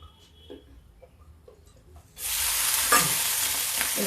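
Potatoes for a fasting-day samak rice dosa hiss in hot oil: a faint clatter and light taps first, then a loud broad sizzle breaks in halfway and holds steadily to the end, close and without voices.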